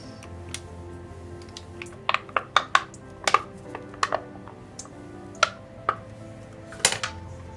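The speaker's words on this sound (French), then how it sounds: "les 2 yaourts de soja. Et on va fouetter le tout." Soy yogurt being whisked in a bowl, heard as a run of light, irregular clicks and taps of the whisk against the bowl, close up, bunched in the middle with quieter gaps.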